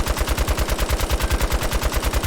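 Heavy machine gun from a Fallout 4 mod firing a rapid, steady burst of sharp, evenly spaced shots, loud and continuous throughout, with no talking.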